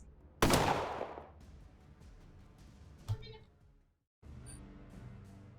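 Gunfire from the sci-fi video game Colony Ship RPG: a loud, sudden burst of shots with a decaying rumble, then a second, fainter shot a few seconds later before the background ambience returns.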